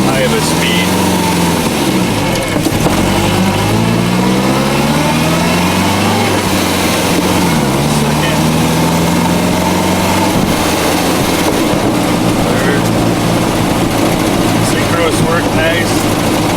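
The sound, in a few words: MGA car engine running while shifting through the gears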